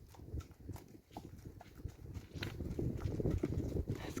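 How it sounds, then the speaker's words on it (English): Hooves of about eleven horses walking in off a field toward a barn, a steady mass of overlapping clip-clop steps close by, growing slightly louder with a windy rumble underneath. "There's like 11 horses, all just walking in off the field"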